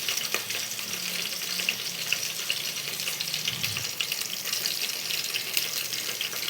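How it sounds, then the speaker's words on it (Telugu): Curry leaves and dried chillies fry in hot oil for pappu charu, giving a faint, steady sizzle and crackle with light stirring in the pan. "మిరపకాయలు కాస్త మనకు వేగుతున్నప్పుడు ఇందులోకి మనం కరివేపాకు యాడ్ చేసుకున్నాం."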